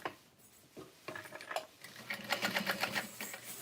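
A sewing machine running top stitching along opened seams at a long stitch length, starting quiet and building into a steady, rapid mechanical chatter that fills the second half, close and alone.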